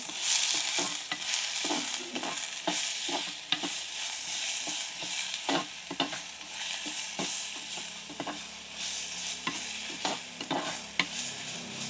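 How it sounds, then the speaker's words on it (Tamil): Shallots, green chilies and dried chilies sizzle in a frying pan while a spoon stirs them, giving a steady close hiss broken by repeated scraping strokes against the pan, with no voices. "எல்லாத்தையும் நல்லா கிளறி விடுவோம்"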